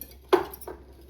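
Citrus salt mixture tipped into a pan makes one clattering scrape with a short rattle after it, close and fairly quiet, with no talking.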